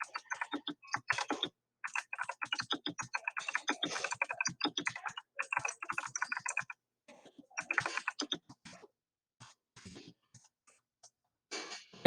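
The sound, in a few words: typing on a computer keyboard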